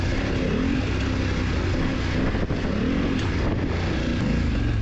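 A BMW F 900 GS parallel-twin motorcycle with 270/450-degree firing is ridden off-road, its engine a steady, loud, continuous drone that holds throughout, close to the microphone, with no talking.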